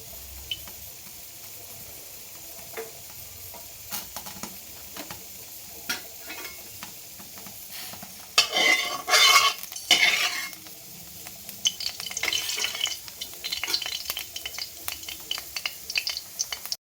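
Chana dal, urad dal and mustard seeds frying in hot oil in a pan, a soft steady sizzle with scattered stirring clinks and a louder crackling burst partway through.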